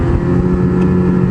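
A snowmobile with a 600 E-TEC engine revs loudly and close, a steady, throaty two-stroke drone with a brief sharp crackle midway through.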